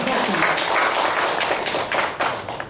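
A debate audience for Kupang mayoral and deputy mayoral candidates breaks into steady, dense applause, loud and sustained for nearly three seconds, fading slightly toward the end.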